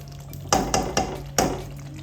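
Four sharp scraping clacks of a spoon against a pan as a curry is stirred, close and evenly spaced over a soft background hiss.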